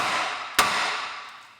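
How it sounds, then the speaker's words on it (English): A single sharp metallic hammer blow lands on the tapered ball joint of a Ford Mondeo Mk4 front suspension hub, ringing out close and loud over a steady background hiss. "I'm going to hit this with a hammer to free this tapered joint"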